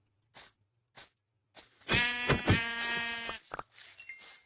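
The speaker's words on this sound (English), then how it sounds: "Gonna try to kill this sheep here." Sheep bleating in the Minecraft video game, a single drawn-out wavering bleat in the middle, loud and close, framed by a few short soft thuds and clicks of game noise.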